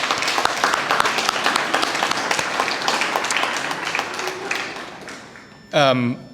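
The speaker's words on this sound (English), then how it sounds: "let's give a preemptive, and I'm telling you, it's good, a preemptive round of applause to Christy Searles and Robin Warren" Audience applause at a high school athletics Hall of Fame induction ceremony, steady dense clapping filling most of the stretch before tapering off, with a brief burst of voice near the end.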